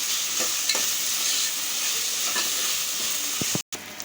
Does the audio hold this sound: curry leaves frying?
yes